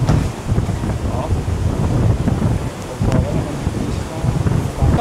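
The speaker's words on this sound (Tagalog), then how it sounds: "Lakas ng hangin." Strong typhoon wind (Typhoon Crising) roars across Boracay Island amid heavy rain, a loud, continuous low buffeting rush that batters the microphone throughout with brief gusting surges.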